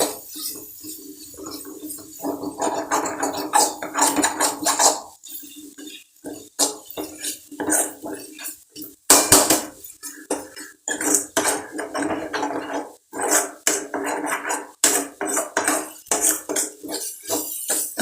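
Soybean masala fry is stirred and tossed in a pan, giving continuous rattling metal scrapes and clinks in irregular bursts with brief pauses, close and fairly loud.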